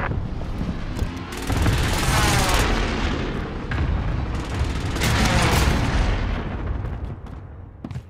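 Artillery strike explosions in a video game, a continuous barrage of heavy booms and rumbling blasts that swell and overlap, loud and dense, easing slightly near the end.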